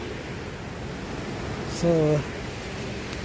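Steady broadband rush of the Chania waterfall pours continuously, with a short voiced word briefly heard over the constant water noise.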